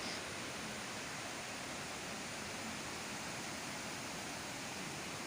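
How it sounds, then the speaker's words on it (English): Ravana waterfalls at Ella, Sri Lanka, roar as a steady, dense wash of falling water, continuous and loud with no breaks or voices. "We are now at Ravana waterfalls located at Ella"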